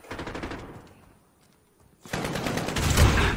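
Rapid automatic gunfire in Modern Warfare: a rattling burst that fades into a brief lull, then a louder, sustained volley that keeps building to the end.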